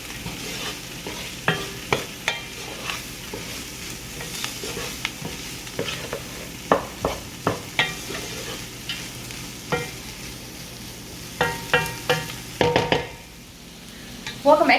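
Chicken gnocchi mixture being stirred in a pan, a run of sharp scraping strokes and clinks in an uneven rhythm over a low background sizzle, close and fairly loud, with a stronger scrape burst near the end.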